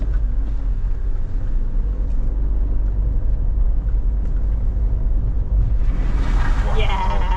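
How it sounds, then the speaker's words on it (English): A car splashes through water during an enthusiasts' meet-up: a steady loud rumble of engine and rushing water, with a brighter spray of splashing swelling near the end. "That was a big sploose."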